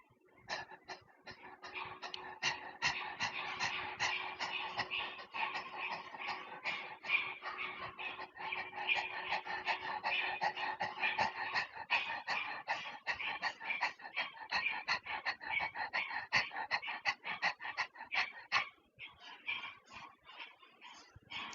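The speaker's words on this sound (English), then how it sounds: "and then with a panting breath, you will breathe in and out" Rapid rhythmic panting breaths during Agnisar Kriya, a yoga exercise pumping the abdomen in and out, heard as a steady fast train of close, breathy huffs that runs unbroken for about twenty seconds before slowing near the end.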